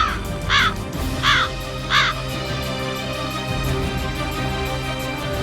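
Crows cawing near a rubbish dump, three loud close bursts of harsh calls in the first two seconds over a steady outdoor background hum.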